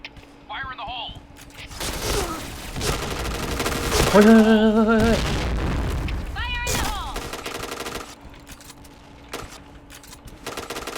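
Rapid bursts of automatic gunfire from the video game Point Blank in bomb-planting mode, a clattering fusillade loud and near, with booms and mechanical clicks, and shot sounds coming in short volleys over several seconds.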